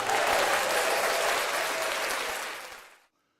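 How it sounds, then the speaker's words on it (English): A burst of dense applause from a crowd, loud and steady at first, then fading away and stopping after about three seconds. "Here's a round of applause."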